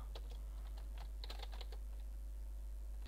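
Keys clatter on a computer keyboard while text is typed in Photoshop, a quick irregular run of light clicks heard close and fairly quiet, with no talking.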